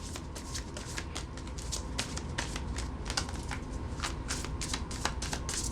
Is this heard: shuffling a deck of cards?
yes